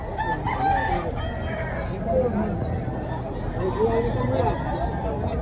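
A rooster crows amid a busy background of chatter and crowd noise at a poultry expo in Talisay, Cebu, its call rising above steady voices.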